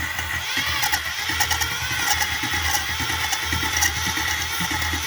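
A moped engine starts and settles into a steady, buzzing idle at close range, with sharp clicks and small revs scattered through the running sound and no speech over it.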